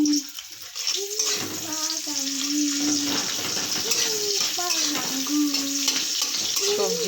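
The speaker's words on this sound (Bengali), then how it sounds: "ঝোল করব, তার জন্য পেঁয়াজটা দিয়ে দিচ্ছি।" Onion sizzles and fries in hot oil in a pan, the start of a fish and vegetable curry. The sizzle is steady and close throughout, with a voice talking over it.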